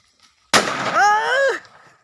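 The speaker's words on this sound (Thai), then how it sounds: "แล้วระเบิดมันจะเข้ามา" A single sharp New Year firework blast bursts out, followed by a loud rising whistle-like tone that fades after about a second.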